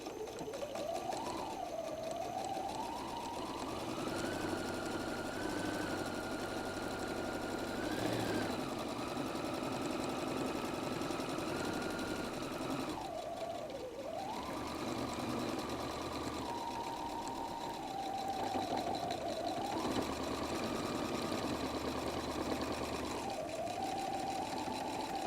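A sewing machine runs steadily down the side of a messenger bag, its motor pitch rising and falling as the speed changes, with brief pauses for backstitching, loud and close.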